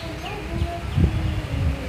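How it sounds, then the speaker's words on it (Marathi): Faint bird chirps sound outdoors on a breezy, cool day, thin calls scattered over a steady wash of wind and rustling. "पक्षी किलबिल करत आहेत।"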